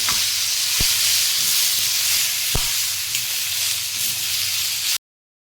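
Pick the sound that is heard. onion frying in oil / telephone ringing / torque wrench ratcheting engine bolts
onion frying in oil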